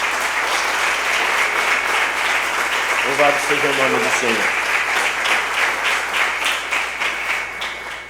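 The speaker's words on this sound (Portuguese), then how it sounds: "Pode aplaudir." A church congregation applauds at a Friday service, steady dense clapping that fills the room throughout, with a voice speaking briefly over it midway.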